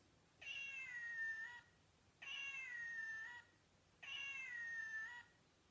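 Three identical electronic meows repeat at even intervals from a toy cat when pressed, each a steady, slightly mechanical cat call, fairly quiet and alone.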